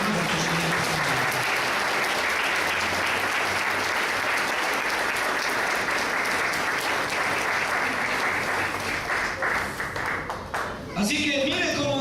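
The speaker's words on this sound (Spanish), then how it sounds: "Denle una ofrenda de palmas al Señor." A church congregation applauding, dense sustained clapping that fills the space evenly throughout, with a voice breaking in briefly near the end.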